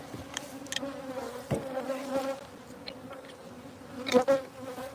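Honey bees buzzing around a hive, a soft steady hum with individual bees droning closer now and then, faint and without voices.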